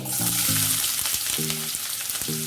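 Two medium onions hit hot oil already holding mustard seeds and cumin, with a dense bright sizzle running close and loud throughout, broken by a few short clinks and scrapes of stirring.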